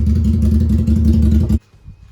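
A vehicle hitched to a loaded trailer of garage junk pulls away with a loud, steady engine drone and rhythmic clatter for about a second and a half, then cuts off abruptly to near silence.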